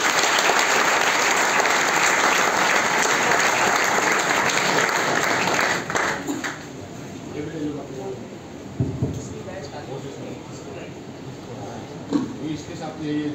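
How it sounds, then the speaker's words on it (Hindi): Audience at a motivational talk applauding loudly, a thick burst of clapping that fades after a few seconds into scattered claps, room noise and murmured speech. "जोरदार तालियां।"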